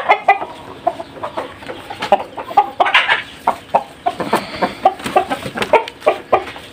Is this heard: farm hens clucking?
yes